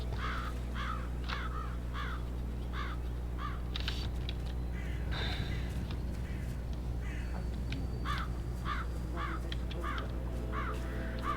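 Crows caw repeatedly in Hitman 3, loud and clear in short regular bursts of two or three calls over a steady game ambience hum.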